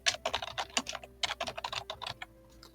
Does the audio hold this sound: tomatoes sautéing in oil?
no